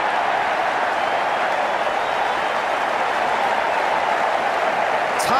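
A stadium crowd in Cricket 19 applauds and cheers in a steady, dense wash of clapping and crowd noise at even volume throughout.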